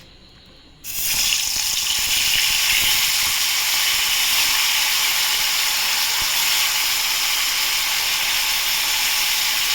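Bhola fish drops into hot oil in a pan, triggering a sudden loud hiss that settles into a steady, dense sizzle up close with no speech.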